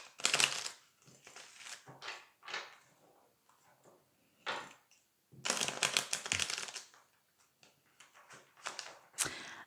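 Worn, well-used tarot deck being shuffled close up, crisp bursts of card riffling and slapping in uneven clusters with short pauses between, no voices.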